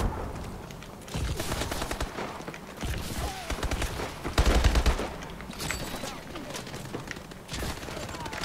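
Video game gunfire from Call of Duty Advanced Warfare, dense bursts of automatic shots and blasts rattling on and off across the whole stretch, loud and close, with faint talk mixed underneath.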